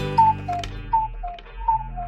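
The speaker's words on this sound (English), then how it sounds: "my cuckoo clock has given us an excellent example" A cuckoo clock ticking steadily and evenly, heard close up and alone with no voices over it.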